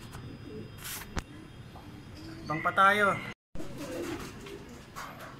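Racing pigeons coo softly at the loft on their return from a training flight, a brief burst of throaty cooing in the middle, heard amid people talking and background rustling.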